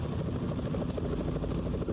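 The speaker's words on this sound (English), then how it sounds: "Is that a chopper I just heard?" A helicopter from the video game Metal Gear Solid 2 flies steadily with a dense, continuous low rotor thrum and wash, loud and unbroken throughout with no voices.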